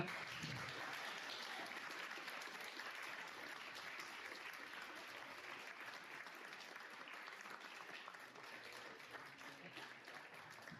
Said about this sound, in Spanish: Aplausos, sí.